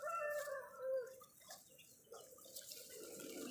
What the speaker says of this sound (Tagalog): Kinakaykay ng manok, yung tanglad namin.